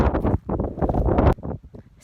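Heavy wind buffeting a microphone on Snowdon in loud, irregular gusts, rumbling and distorted, easing off briefly near the end.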